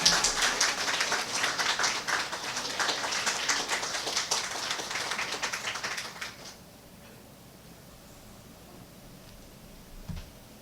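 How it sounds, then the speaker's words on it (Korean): A church congregation applauds to welcome the pastor, a dense roomful of clapping that holds steady for about six seconds, then stops abruptly and leaves quiet room tone with one faint bump near the end. "우리 목사님 나오실 때 우리 박수로 환영하겠습니다"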